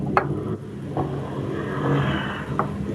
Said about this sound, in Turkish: Araba sesi geliyordur bazen.